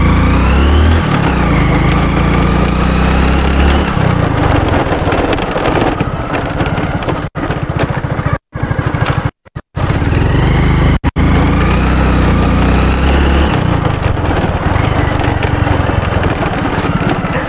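Motorcycle engine running on turpentine oil, a loud, steady close-up drone that stays running with slight rises and dips, wind buffeting the microphone, and a few brief dropouts midway.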